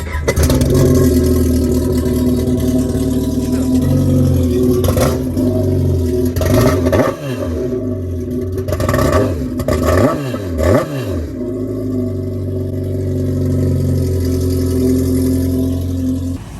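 A Yamaha FX 1800 supercharged jetski engine cranks and fires up close and loud, then revs repeatedly in sharp rising and falling sweeps before settling back toward idle.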